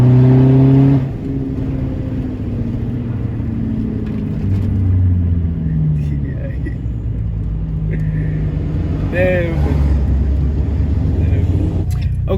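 A Volkswagen Polo 1.9 TDI accelerates hard on a drag run, its diesel engine note climbing through several gear changes, loud and close, with someone speaking over the engine noise.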